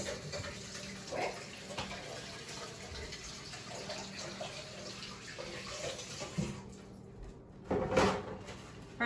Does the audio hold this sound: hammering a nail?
no